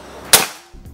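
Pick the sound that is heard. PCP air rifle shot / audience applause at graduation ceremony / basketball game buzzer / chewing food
PCP air rifle shot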